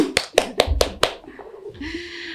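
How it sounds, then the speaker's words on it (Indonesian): Four or five sharp, close hand claps fall in quick succession on an Indonesian school podcast, then they stop and faint room noise follows. "Tepuk tangan dulu dong."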